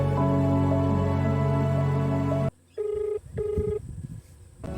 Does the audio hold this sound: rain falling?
no